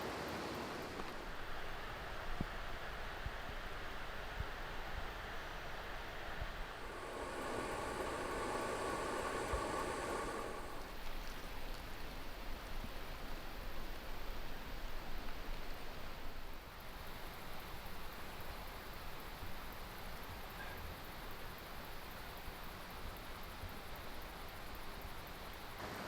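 Steady broadband rushing of a waterfall fills the background beside railway tracks on a bikepacking overnighter, continuous and fairly loud, with a brief brighter hiss partway through and no talking.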